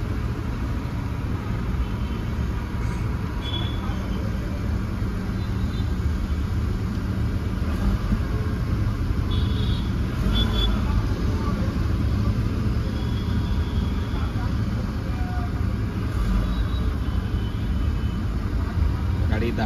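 A Tata Nexon car engine runs at a steady idle, a low continuous rumble and hum up close while it switches over from petrol to CNG, with faint background sounds.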